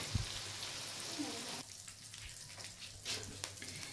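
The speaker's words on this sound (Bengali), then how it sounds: "তো এগুলো আমি একটু ভেজে নিই হালকা করে।" Potato and papaya pieces frying in hot oil on a gas stove for a mutton curry, a faint, steady sizzle that softens and thins partway through, with a couple of small clinks.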